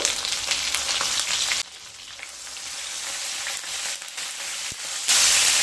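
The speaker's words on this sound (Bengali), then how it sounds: "প্রথমে বেগুনগুলোকে ভেজে নেব। খুব সামান্য লবণ দিয়ে দেব।" Small brinjals frying in oil with a little salt make a steady, close sizzle that shifts in intensity and swells into a louder hiss at the end.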